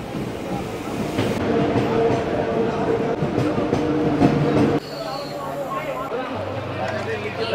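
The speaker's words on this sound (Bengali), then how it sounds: "এই যে ট্রেন ঢুকে গেল।" A train pulling into a railway station on the Kolkata to Jammu Tawi Express route, with a steady rumbling roar and rattling carriages under busy platform noise and people talking nearby.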